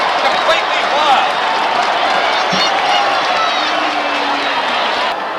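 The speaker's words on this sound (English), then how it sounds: "The crowd have gone wild, completely wild." A rugby grand final crowd roars after a try, a dense, loud, sustained wall of cheering and applause with a commentator speaking over it.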